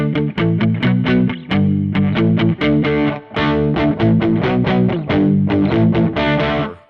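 Overdriven electric guitar strums chords in steady rhythmic bursts through a Phenyx Pro PTG-12 wireless system, gritty and loud, with short pauses between phrases.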